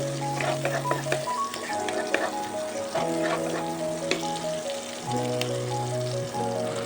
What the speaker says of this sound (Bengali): দুটো কুচিয়ে রাখা পেঁয়াজ একটু ভেজে দেবো এই মশলাগুলো